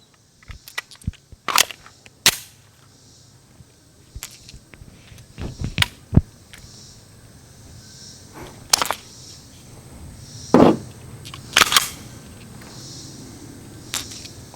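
Pistol shots from a Canik TTI or CZ P-10C ported handgun strike a target, a series of sharp, separate cracks with short, irregular gaps between them, fairly close and loud with no talking.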